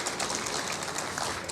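A church congregation gives welcoming applause, a fairly faint, dense spatter of clapping heard briefly and evenly with no voices on top.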